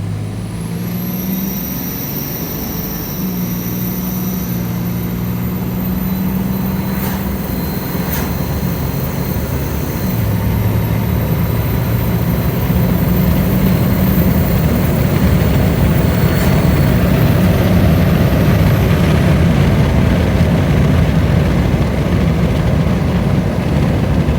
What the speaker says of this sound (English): I'm gonna roll into it. Not hard, about half throttle.